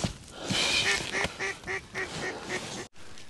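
Mallard ducks quack in a rhythmic series of nasal calls during a snowstorm duck hunt, moderately close, over soft outdoor wind noise.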